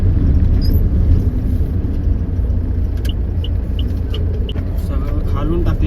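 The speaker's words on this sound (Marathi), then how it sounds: "पण आता बघा ट्रॅफिक बघा, ट्रक बघा केवढे" Heavy road traffic with trucks passing on a rough, dusty, potholed road, a loud constant low rumble of engines and wind buffeting close by, with a few brief higher clicks and tones along the way.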